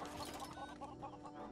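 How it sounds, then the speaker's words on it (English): Several chickens cluck steadily in LEGO Worlds, a brief run of rhythmic clucks at moderate volume over a constant background hum of game sound. "Oh, the chickens!"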